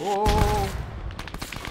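A BMP armoured vehicle fires at players in a German milsim game, a clatter of rapid nearby shots following a brief startled shout.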